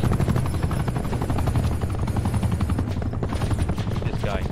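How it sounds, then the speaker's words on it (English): An attack helicopter in Call of Duty Black Ops 4 thumps with a fast, rhythmic rotor beat, loud and continuous, with scattered gunfire crackling over it. "Establishing attack chopper, close air support."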